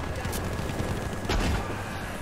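Gunfire from the EH29 shotgun in the shooter game Battlefield V, a short burst of loud reports set against dense battle noise, with a sharp blast near the middle and constant background din.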